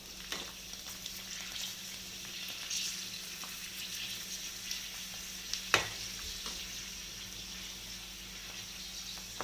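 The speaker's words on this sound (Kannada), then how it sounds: "ಪೂರಿ ಹಾಕಿಬಿಟ್ಟು ಫ್ರೈ ಮಾಡ್ಕೋಬೇಕು. ಮೀಡಿಯಮ್ ಫ್ಲೇಮಲ್ಲಿ ಇಟ್ಕೊಳ್ಳಿ." Puris fry in oil over a medium flame for pani puri, a soft steady sizzle with faint crackles and an occasional sharper pop, close up and quiet, with no talk.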